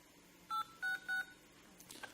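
Three short phone keypad tones, evenly spaced, sound as an OTP is entered, quiet and clean against a near-silent background, with a faint trailing noise afterward.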